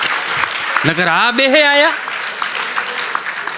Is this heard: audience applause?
yes